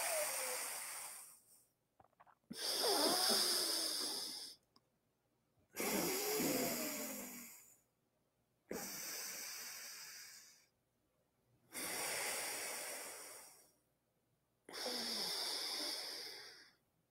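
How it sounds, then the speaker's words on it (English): Slow alternate nostril breathing during yoga pranayama, with six long airy breaths through the nose separated by short silences, heard close and soft in an even rhythm. "here you keep on doing your alternate nostril breathing"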